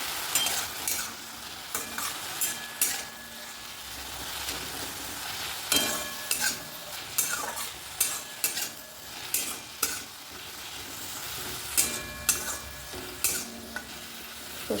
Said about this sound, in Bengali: সর্ষে শাকটা আমার হয়ে গেছে ভাজা